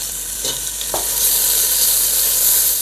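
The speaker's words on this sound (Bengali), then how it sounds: "এখন এই রসুন বাটা এবং আদা বাটাটা ভালো মতো ভাজা হয়ে গেলে" Garlic and ginger paste fry in hot oil with whole spices and onion for beef nihari, a loud, close, constant sizzle broken by a couple of stirring scrapes early on.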